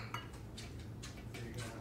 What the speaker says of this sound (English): you take your spoon and you just put 1 spoonful on each piece of bread